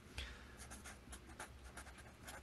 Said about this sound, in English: I'm just going to go ahead and write down hit dice, 1d8.